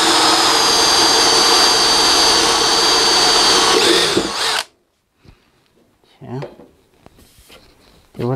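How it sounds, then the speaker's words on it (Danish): Power drill boring a hole in a workshop shelf, loud and continuous for about four and a half seconds before cutting off abruptly, followed by quiet handling clatter and brief voices. "Så vi skal bare lige have boret et hul, så vi kan komme derind og komme derfra."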